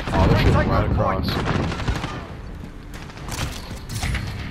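Gunfire in the video game Call of Duty: Modern Warfare: rapid bursts of automatic fire and sharp shots over a dense multiplayer mix, loud and continuous, with faint game voice cues mixed in.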